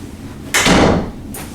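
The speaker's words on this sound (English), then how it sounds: "Let me close my bedroom door." A bedroom door swings shut with a single firm thud and brief rattle, close and loud, followed by a second softer knock a moment later, with no talking.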